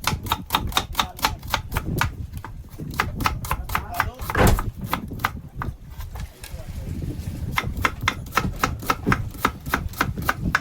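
A knife chops onion on a board for a prawn and potato curry, with rapid, evenly spaced sharp knocks close by, a brief pause midway, then the steady rhythm resumes.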